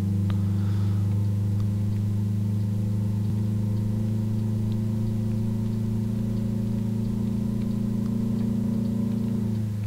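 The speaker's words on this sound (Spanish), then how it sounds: "cuando acelera mucho, se escucha un ruido del motor, como ahora sí" A classic Dina bus engine in Euro Truck Simulator 2 drones loudly and steadily for the whole stretch, its low hum rising slightly as the bus accelerates hard to overtake on winding Peruvian roads, with no talk over it.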